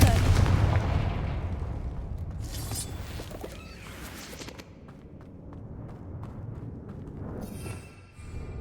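Fire-spell blasts in Hogwarts Legacy burst out as a heavy explosive boom followed by crackling bangs and scattered impacts, trailing into quieter rumbling and rattling effects.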